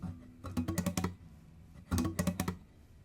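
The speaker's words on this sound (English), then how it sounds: "The way that you play that mute strum is with the help of your right hand" Two quick bursts of dull, percussive palm-muted guitar strums, each a rapid cluster of choked string hits, separated by a short pause.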